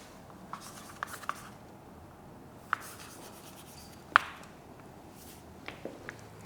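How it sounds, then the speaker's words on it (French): Pen or chalk writing a word during a French vocabulary lesson, heard as a few faint scratchy strokes and light taps over a quiet room background, with no talk. "On va écrire un mot tel que percepteur"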